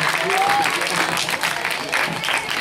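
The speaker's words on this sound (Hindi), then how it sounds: "जोरदार तालियां, बहुत अच्छा बोला, जोरदार तालियां।" A crowd at an outdoor public rally in Rajouri Garden breaks into loud, rolling applause mixed with cheering and crowd noise, a brief whistle rising above it early on.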